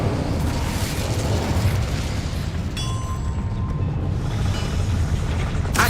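Hogwarts Legacy's Incendio fire spell goes off in the PS5 game, a dense roaring blast that fills the whole clip, with a metallic ringing tone rising briefly in the middle and no voices.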